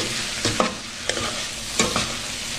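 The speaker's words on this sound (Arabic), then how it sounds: "هنشوح كل ده كده مع بعض، اللوبيا تاخد من طعم التوابل اللي موجوده مع اللحمه والبصل" Green beans with meat, onion and spices sauté in a pan, stirred in a few scraping strokes over a steady close sizzle, with no talking.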